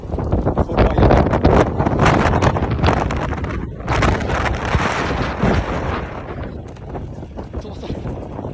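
Strong wind at a ski resort's lifts roars straight into the microphone in heavy, continuous buffeting that stays loud throughout and eases slightly toward the end, drowning out a voice.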